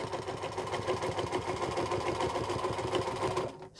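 A Singer Featherweight sewing machine stitches during ruler quilting work, running in a fast, even mechanical rhythm up close with no talk, then stopping abruptly just before the end.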